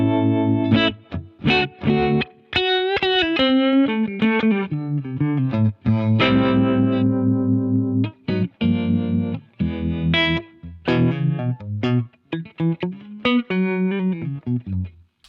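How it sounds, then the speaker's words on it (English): An electric guitar runs through a pedalboard with a Strymon Flint harmonic tremolo, playing clean, reverb-washed chords and single notes in close, phrased bursts with brief gaps between them. "I also have a harmonic trem set up if I ever want that sound"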